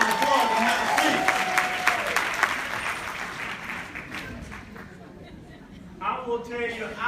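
An audience of nurses applauding at a healthy-workplace nursing talk, clapping strongest at the start and gradually thinning and fading, with a voice and some murmuring coming in near the end.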